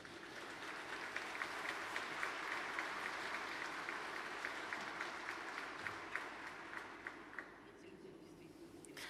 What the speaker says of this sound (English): Nobody asked them to clap and to applaud.